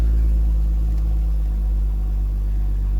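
A BMW 435i sits running in Sport Plus mode, its engine a loud, deep, steady idle rumble with a constant low drone throughout and no voices.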